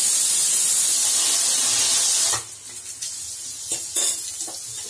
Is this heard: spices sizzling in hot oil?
yes